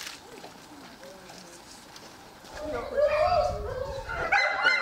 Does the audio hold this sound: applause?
no